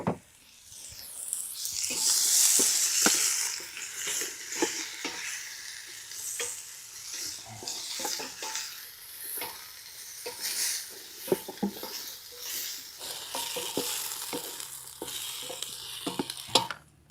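Meat frying in lard or beef tallow in a pan at a campsite, a steady sizzle with scraping and clinking from stirring at irregular intervals, close and moderately quiet, no talk.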